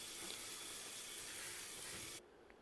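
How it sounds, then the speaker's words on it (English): Hot water runs over cooked chickpeas in a sink after their cooking liquid is drained off, a steady hissing stream close by that stops abruptly near the end, leaving near silence. "I'm going to drain off the cooking liquid and then give them another good rinse with hot water"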